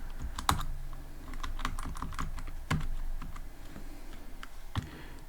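Code is typed on a computer keyboard in quick irregular bursts of crisp clicks, a few louder key strikes standing out, close up and without talk.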